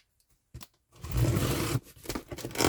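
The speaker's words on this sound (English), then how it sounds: "Get my scissors and open up the box." A short snip, then a sustained rasping slice as scissors cut through cardboard tape, followed by a few smaller scraping rustles up close.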